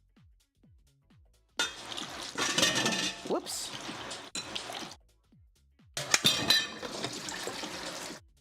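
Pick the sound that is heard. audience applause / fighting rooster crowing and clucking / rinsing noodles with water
rinsing noodles with water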